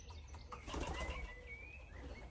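A bird takes off and flies away, its wings flapping in a brief flurry close by amid quiet outdoor background noise.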